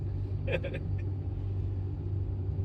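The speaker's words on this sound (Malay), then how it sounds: "kereta ni boleh naik bukit" A steady low engine rumble from a car climbing a hill on a rural road, droning continuously with brief voices over it.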